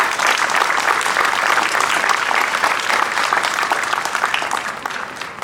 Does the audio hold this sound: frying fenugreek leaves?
no